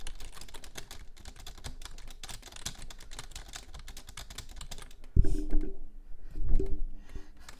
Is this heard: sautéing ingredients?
no